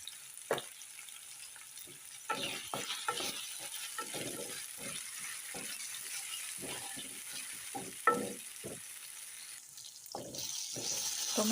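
Tomatoes frying for paneer bhurji in a Mangalore-style kitchen, with a steady low sizzle broken by repeated scraping stirs of a spoon against the pan, some louder clatters near the end.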